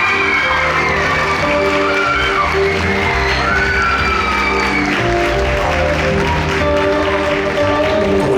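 An audience at a school dance festival concert breaks into sustained, loud applause with cheering and whoops after a dance performance, steady clapping filling the hall throughout over a music bed.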